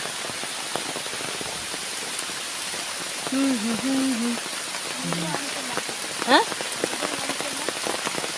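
Heavy rain pours steadily over a rubber plantation in Kerala during a red alert, a dense even hiss throughout, with a few faint tonal calls and a brief sharp sound rising above it midway.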